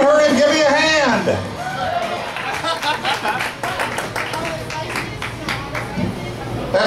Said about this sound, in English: give him a big round of applause for Al Jensen.